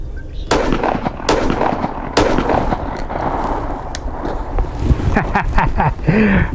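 A Ruger 57 pistol fires sharp, loud gunshots at a cabbage outdoors, several cracks spaced a second or so apart, then a quick double tap, with someone talking between shots.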